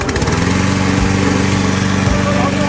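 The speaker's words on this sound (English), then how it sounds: "Turn on the electric start engine switch." A remote-control track crawler lawn mower's petrol engine runs loud and steady with an electric start, a constant buzzing drone with a fast, even pulse that never lets up.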